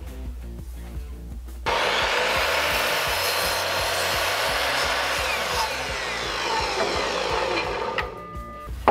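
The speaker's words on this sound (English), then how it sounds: "I had to change the angle in which this miter saw is pointing" A miter saw cuts through a wooden 1x board at an angle for a bookshelf, the blade's whine jumping into a loud, rough cutting roar that lasts about six seconds before spinning down, with no talking.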